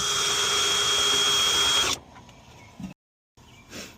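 Cordless power drill whirring steadily for about two seconds as it backs screws out of a 2008 Chevy Tahoe door panel during window regulator work, then stopping, followed by faint clicks and handling noises.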